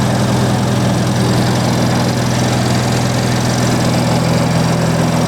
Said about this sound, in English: S55 is a badass motor.